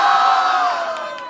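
College students at a campus festival event roar in a loud sustained crowd shout and cheer, one long swelling yell that fades slightly toward the end.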